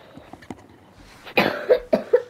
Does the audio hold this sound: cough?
yes